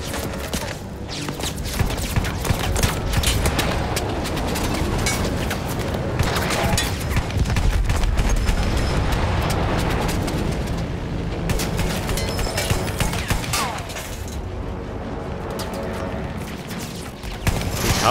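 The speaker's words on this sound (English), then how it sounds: "Blind firing through the smoke." Gunfire and explosions in the first-person shooter Battlefield 1, with blind firing through smoke: dense, loud bursts and rumbling booms over a continuous battle din, with someone talking over it at times.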